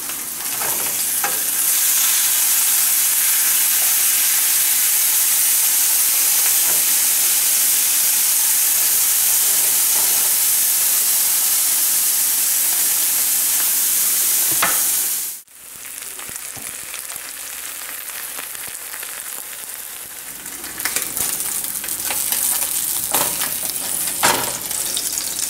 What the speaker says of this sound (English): your bacon's already halfway cooked at 150 degrees, so it doesn't need to be in the skillet for too long